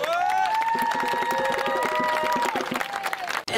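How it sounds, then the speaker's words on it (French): Crowd at an outdoor march in Paris claps and cheers, with whistles and high shouts rising over a continuous wash of applause that thins toward the end. "Vous pouvez l'applaudir fort, s'il vous plaît."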